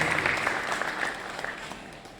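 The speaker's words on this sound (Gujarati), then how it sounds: "તાળીઓથી એમને વધાવીએ, સ્વાગત કરીએ." An audience at a Vishnu Purana katha gathering breaks into applause to welcome the speaker, a dense, steady patter of many hands clapping that gradually thins out.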